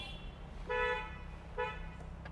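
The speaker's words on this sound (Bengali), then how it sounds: "হর্ন দাও" Two short car horn honks, the second briefer, sounding moderately close over a low engine rumble.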